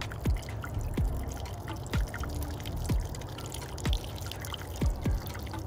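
Water pours into a VermisTerra HydroSpiral while watering dragon fruit cuttings, with a soft continuous trickle broken by about six regular drip-like plops, close and quiet.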